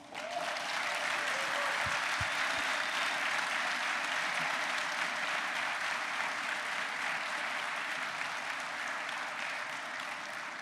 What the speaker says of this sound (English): we're able to reveal that the third place team, round of applause for